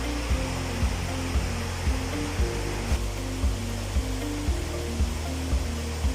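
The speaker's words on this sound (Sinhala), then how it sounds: "මේ යන අතරතුර දැන් අපි බොහොම කිට්ටුවෙන් ඉන්නේ පහන් තුඩාව ඇල්ලට." Pahanthudawa waterfall on the Belihul Oya in Sri Lanka gives a steady, broad rush of falling water that holds unbroken throughout, with music playing over it.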